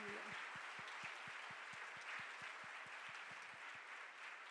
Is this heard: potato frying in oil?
no